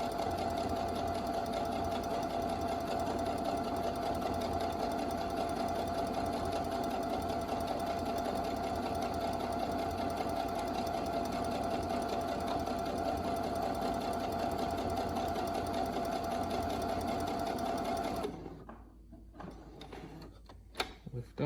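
A sewing machine stitches over elastic on a cloth face mask, a fast steady mechanical whir with a continuous hum that runs close and unbroken, then stops abruptly near the end, followed by a few faint handling clicks.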